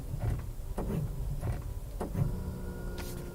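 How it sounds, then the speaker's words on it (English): A Toyota car's brakes give off an odd repeated sound, several short low groaning or clunking pulses roughly every half second over a steady background hum, close and fairly quiet. "The brakes make an odd sound"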